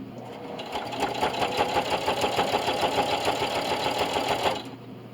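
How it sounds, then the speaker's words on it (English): A sewing machine stitches binding onto a hotpad, its needle chattering in a fast, even rhythm at close range for several seconds before slowing to a stop. "I like to ease it around the corner and just sew nice and slow"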